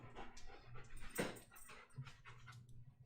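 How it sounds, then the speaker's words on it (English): A big puppy pants close by in rapid, breathy rhythmic huffs, with a faint whimper-like sound partway through and a low background hum. "That's a big puppy."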